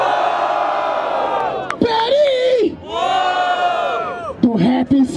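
A crowd at a rap battle in Barueri roars and whoops, with loud sustained shouting and cheering voices rising and falling close by.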